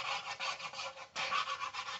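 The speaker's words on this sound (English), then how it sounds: "I'm gonna do it on this side because we gotta sand both sides, of course." Wooden board sanded by hand with sandpaper, a quiet, close, rhythmic rasp of back-and-forth strokes with a brief pause midway.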